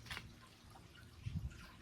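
Water flows continuously at a weir with a sluice gate, a steady rushing wash with a few low gurgles, heard close and alone.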